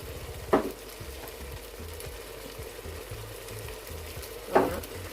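Cameroonian fried beans sizzle steadily in a pan, with two brief scraping stirs of a utensil cutting through the constant close frying hiss.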